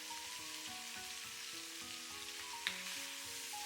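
Celery and king oyster mushrooms sizzle steadily in a wok over high heat, a faint continuous frying hiss with one small clack partway through.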